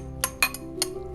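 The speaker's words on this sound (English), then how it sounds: "I'm just going to stir it in like so" A spoon stirs herbs into pasta salad in a bowl, giving a few faint, light clinks spaced over about a second.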